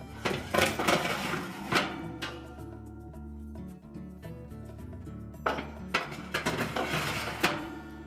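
Metal oven racks slide and clatter back into a Frigidaire range, with a burst of rattling clanks, a quieter pause, then another run of scraping, jangling metal knocks.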